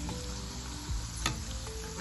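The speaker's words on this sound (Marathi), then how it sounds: "अगदी छान ही आपली चकली तळून तयार होते" Sabudana potato chakli, a fasting snack, deep frying in medium-hot oil gives a steady, close, crackling sizzle that runs continuously with no voices.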